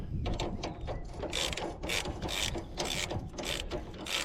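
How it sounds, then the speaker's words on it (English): Ratchet snugging a bolt on a junk mower under repair, a string of close, quick clicking bursts in a back-and-forth rhythm over a low background hum, no talk. "I'm just gonna snug it a little bit and then see where we're at"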